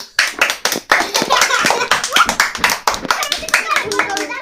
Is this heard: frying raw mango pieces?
no